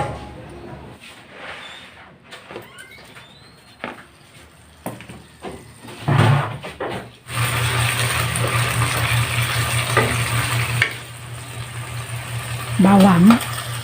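Chicken dish ingredients for chicken with mushroom in oyster sauce frying in oil in a pan and being stirred, with a steady sizzle that swells loudly after the first few seconds, broken by scraping and clatter, with voices talking at times.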